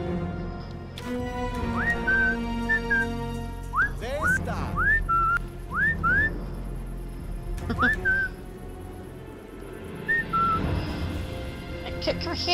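In Sniper Elite 5, a character gives a series of short rising whistles to lure enemies, repeated several times over game ambience, with a voice briefly talking in between.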